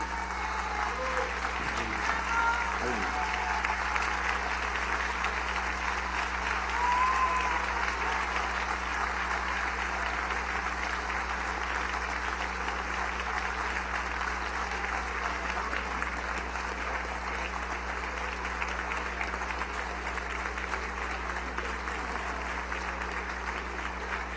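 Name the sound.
standing ovation applause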